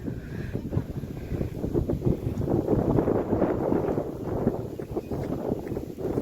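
Wind blowing outdoors in open countryside, a steady rushing gust that buffets the microphone with a low rumble throughout, with no voices.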